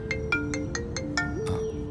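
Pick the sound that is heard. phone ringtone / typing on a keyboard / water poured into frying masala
phone ringtone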